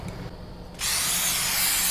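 A sudden loud, steady hiss of spray bursts in after a quiet moment and holds continuously, close and harsh, as a rat is sprayed to death in a haunted convenience store horror game.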